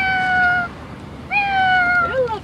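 A girl imitates a cat's meow with her voice, giving two drawn-out, tonal mews, the second rising then sliding downward, close and clear with no other sound.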